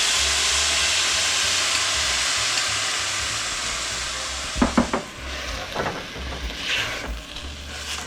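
Chow mein sauce poured into a hot pan, where it sizzles and hisses steadily with a broad steamy rush, followed by a few clanks of a utensil stirring against the pan.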